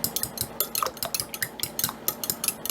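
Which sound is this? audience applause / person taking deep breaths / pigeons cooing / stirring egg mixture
stirring egg mixture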